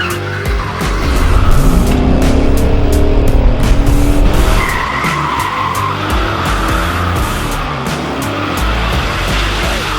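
Ford Mustang with a 4.6 liter V8 burning its rear tires, a loud sustained tire squeal over a roaring, revving engine and rapid crackling, continuous for ten seconds with no voices.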